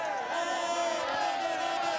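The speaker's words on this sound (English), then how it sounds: "The crowd's big here in Nommay" A large, steady roar of spectators cheers and whoops along the course at a cyclo-cross World Cup race in Nommay, eastern France, sustained and dense throughout.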